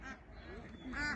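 Northern shoveler duck, Spatula clypeata, giving nasal honking quacks close by, a couple of short calls with a louder one at the end over a busy outdoor background.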